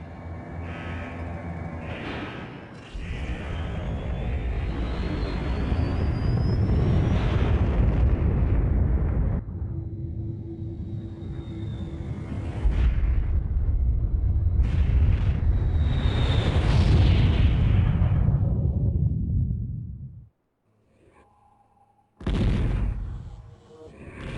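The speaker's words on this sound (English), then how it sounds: "Missile launch sequence initiated" Missile launch and explosions in the 1999 strategy game Warzone 2100: loud, sustained booming blasts and rumbles across several bursts, with a short quiet gap before a final burst.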